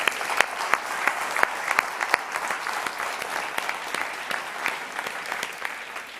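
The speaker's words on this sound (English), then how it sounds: "Let's have a giant round of applause for all of them" An audience breaks into sustained applause at a corporate presentation event, many hands clapping at once with sharp, close claps standing out over the steady wash of the crowd.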